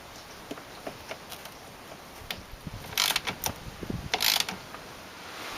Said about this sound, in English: And you can start threading your bolts in.